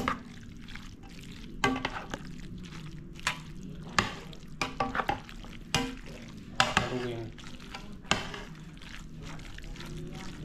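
Spoon scraping and stirring a dish with raisins in a pan, an irregular run of clacks and scrapes over a low steady background hum.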